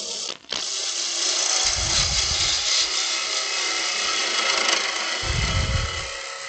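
Wood lathe spinning a snowman blank while a gouge rounds it over, a steady broadband whir with bursts of low rumble as the tool bites, close and continuous with no talking.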